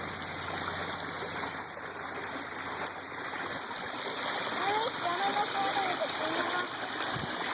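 A small waterfall at Carpenters Dam in Hot Springs, Arkansas pours steadily with a constant close rush of water throughout, and faint voices can be heard in the background.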